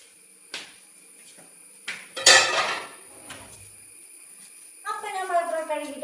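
A Teflon pan and dishes are handled at a kitchen sink, giving sparse metallic clinks and one sharp clank, with a voice speaking near the end.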